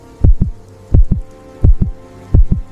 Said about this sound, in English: For a moment, it felt as though he could hear her heartbeat.